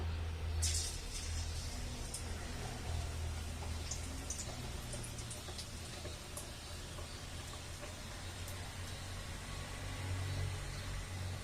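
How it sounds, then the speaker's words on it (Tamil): Bajji batter dropped into hot oil, giving a faint, steady hissing sizzle with a low rumble underneath throughout, and no talking. "இப்போ நம்ம எண்ணெயில் போட்டுடலாம்"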